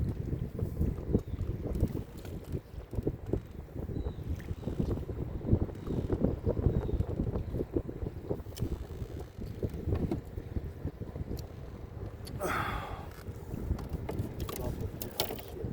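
Wind buffeting a fishing boat out on Hoover Reservoir, a steady rumbling roar across the microphone with water and boat noise, plus a brief brighter rustle near the end.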